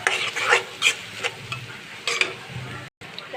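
Grated carrots stir-fried with egg and tomato in a pan for vegetable pasta noodles, with repeated short scraping stirs and a soft sizzle in bursts, close and moderately loud.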